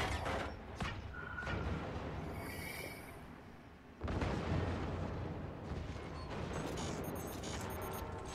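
In the artillery game Forts, a volley from all weapons erupts as a dense run of booms and crashes, with a second heavy wave of blasts breaking out midway and a sustained rumbling barrage after it.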